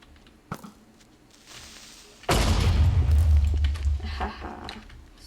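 In the video game FrogCraft, an enemy is blown up: one sudden deep booming blast, loud and rumbling, that follows a couple of faint clicks and decays over a few seconds.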